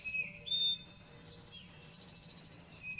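Morning birdsong under a moonlit sky, with several high chirps and warbling phrases, clearest at the start and end and fainter in between.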